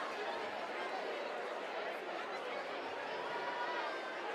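A large, energetic crowd at a ninja obstacle competition for teens, steady dense chatter and cheering filling a big indoor hall, continuous and fairly distant throughout.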